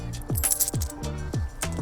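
Coins from a coin purse jingle and clink in several bright bursts, close and fairly loud, with no one speaking.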